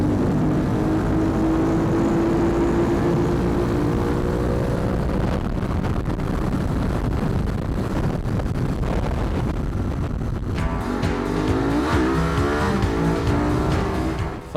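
Bimota SB8 motorcycle accelerating hard at full speed, a loud continuous engine roar with rising pitch through the gears and heavy wind rush, alone and close throughout.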